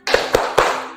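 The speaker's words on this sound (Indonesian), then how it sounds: "ayo kita tepuk semangat dulu ya" Children clap a short rhythmic chant in a classroom, three sharp, close hand claps at an even beat, followed by a brief ringing tail.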